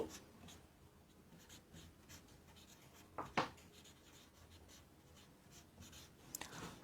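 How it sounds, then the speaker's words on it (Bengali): Pen scratching on paper while a chemistry question is written out, soft rapid strokes with a couple of sharper taps, faint and close. "আমরা যদি একটু প্রশ্নটা লিখি"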